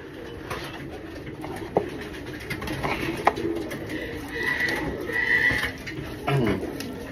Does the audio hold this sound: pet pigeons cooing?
yes